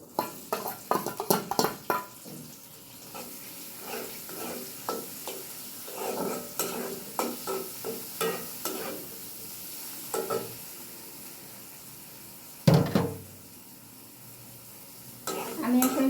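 Garlic, green chilies and onion hit hot oil for a tempering over red amaranth greens, with bursts of sizzling and a series of scraping spatula stirs, some louder clanks near the end, close by.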